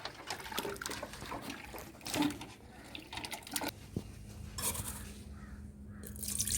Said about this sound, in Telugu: నీళ్ళు అయితే పోసుకొస్తుంది సరిపడినన్న నీళ్ళు